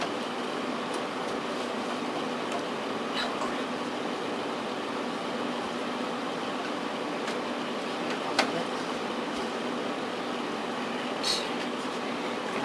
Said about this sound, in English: And I apologize because my hair dryer is loud.